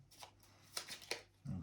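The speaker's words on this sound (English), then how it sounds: "you have to shuffle it straight back in" Quiet playing cards for the Jaws of the Lion board game are shuffled in a few soft riffles and slaps, close by, followed by a low thump.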